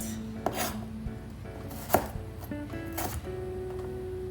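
A knife chops celery and onions on a cutting board for a roast chicken stuffing, giving a few sharp, separate thunks spaced out over steady quiet room tone, close by and with no speech.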